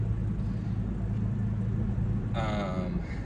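A car driving along the road gives a steady, close low rumble of engine and tyre noise throughout, and a brief higher tonal whine rises above it near the end.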